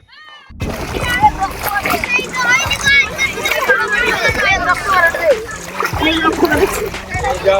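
Feet splash and wade through knee-deep floodwater in a village after a night of heavy rain. The splashing is continuous, close and uneven, while children chatter and shout over it.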